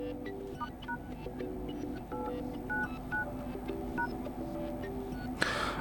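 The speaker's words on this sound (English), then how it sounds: "go to dialer and type following code" Rapid sequence of DTMF keypad tones entered on an OPPO A5x phone dialer, a dozen or so short beeps in quick irregular rhythm, close and clear against a quiet background hum.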